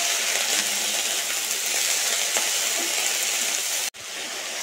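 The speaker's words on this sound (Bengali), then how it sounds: "আর এখানে ফুলকপিটা এখনও ভাজা হচ্ছে" Cauliflower frying in a pan for a home-cooked Bengali meal gives a steady, dense sizzle that holds evenly throughout, broken by a brief sharp cut near the end before the frying noise resumes.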